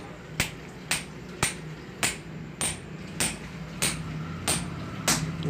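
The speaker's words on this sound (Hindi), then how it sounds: "ये इसे मैंने ठोका।" A hammer drives a bearing onto the motor of a 1 hp submersible pump, giving about nine crisp, evenly spaced metallic taps close by, with steady low workshop hum underneath.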